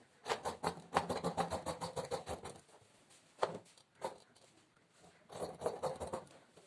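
Scissors cut churidar fabric in two runs of rapid, evenly spaced snips, close and fairly quiet, separated by a few isolated rustles.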